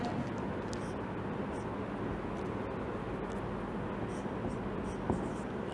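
Chalk or marker scratches across a classroom board in short strokes during an English grammar lesson, faint over a steady low background hum, with no talking.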